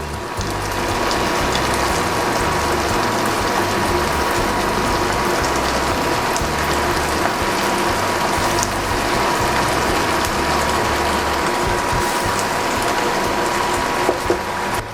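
A pepper grinder is cranked steadily over a simmering sauce, giving a loud, dense, continuous ratcheting grind that runs the whole time without pause and with no talk.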